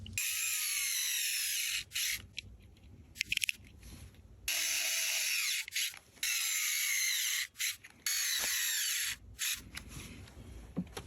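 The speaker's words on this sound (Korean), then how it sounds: "좌측에 긴 육각 렌치 볼트 두 개를 조여주시고 우측에 짧은 육각 렌치 볼트를" Power driver running hex bolts into the outer metal cover of an Ali Eotech 558 assembly, in several bursts of whirring with short pauses between them, close and loud, no talking.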